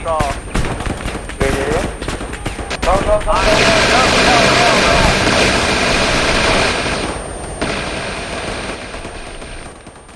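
Gunfire during combat training, bursts of rapid shots then a dense sustained volley of close, loud fire, with shouted voices between bursts.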